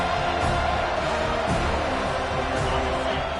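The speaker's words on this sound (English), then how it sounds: "Decibels rising as the crowd gets behind this defense on third down." A home stadium crowd at a football game roars for its defense on third down, a dense, sustained wall of noise that stays loud and steady throughout.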